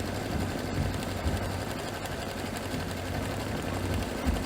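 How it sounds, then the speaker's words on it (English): An embroidery machine stitches at a colour stop, tacking down cherry-print fabric for a tea towel, with a fast, even needle rattle running steadily and close for the whole stretch. "let me go ahead and run color stop number 2, and this is actually going to tack down my little cherry fabric here."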